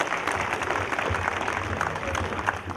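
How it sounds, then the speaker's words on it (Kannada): An audience at a stage talent event claps in a brief, dense burst of applause that fills the whole moment, heard at moderate volume with a crowd feel. "ಬಲ್ಲಿ ಅವ್ನಿಗೆ ಜೋರಾದ ಚಪ್ಪಾಳೆ."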